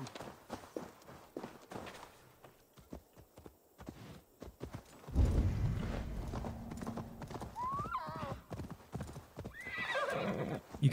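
A horse's hooves clip-clop in a steady walking rhythm in Assassin's Creed Valhalla, then a loud whinny rises midway, near and clear with no talking.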